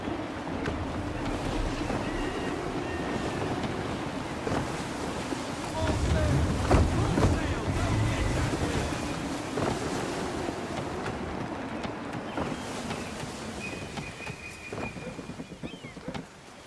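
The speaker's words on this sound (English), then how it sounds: "Wind looks to be shifting. Stay alert, Connor. Gusty winds can be difficult to manage." Gusty wind and rolling sea surge steadily around a sailing ship at sea in Assassin's Creed 3, with a swelling rush of wind and water midway and spoken dialogue heard faintly under the roar.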